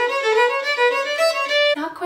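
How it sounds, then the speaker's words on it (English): A short run of bowed fiddle notes played smoothly and evenly, without strong rhythmic accents, ending on a lower note. "If you played those same notes without 332 bowing, it would sound like this."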